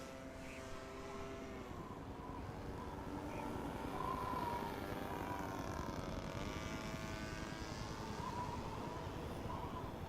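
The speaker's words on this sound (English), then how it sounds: "So let's fly the RC plane." An RC plane in the video game The Secret World flies with a continuous droning propeller buzz that shifts slightly in pitch as it passes. The sound is steady and moderately loud, with no speech.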